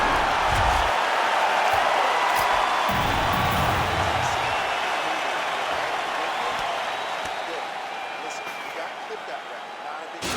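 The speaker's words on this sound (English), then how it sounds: "the crowd voicing its appreciation after that round" A video game fight arena crowd cheers and applauds after a boxing round that included a knockdown, a dense, sustained roar that slowly fades. Brief voices come through underneath.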